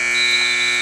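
A basketball game clock buzzer at a high school girls' game ends the first quarter, sounding as one loud, steady electronic tone that holds for the whole moment.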